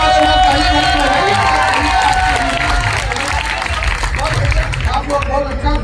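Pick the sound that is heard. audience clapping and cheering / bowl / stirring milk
audience clapping and cheering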